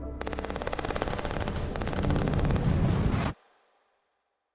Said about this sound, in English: the tempo of gunfire beat deep into the night